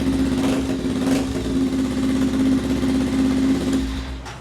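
A motorcycle, apparently a Kawasaki W230 or Meguro, idles steadily close by through an exhaust taken from an old car, giving a continuous low rumble with a few small swells and no voices.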